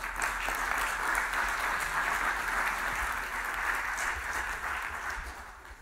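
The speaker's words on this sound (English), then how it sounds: "So have a round of applause, please." An audience at a data science talent event gives a round of applause, a steady, full wash of clapping that holds level for several seconds before tapering off at the end.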